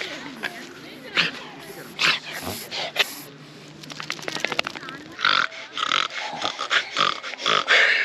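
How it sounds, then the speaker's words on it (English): A dog doing a reverse sneeze, with repeated rapid snorting, honking gasps in bursts, close and fairly loud, mixed with grass rustling and occasional voices. "I think it's inward sneezing."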